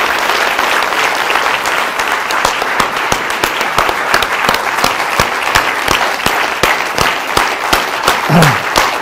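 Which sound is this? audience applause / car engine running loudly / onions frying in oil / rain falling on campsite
audience applause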